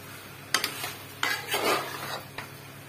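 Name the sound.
stirring frying meat with added potatoes in a pot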